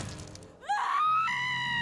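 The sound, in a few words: woman screaming in pain, horror podcast sound effect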